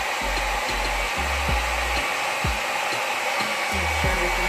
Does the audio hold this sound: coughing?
no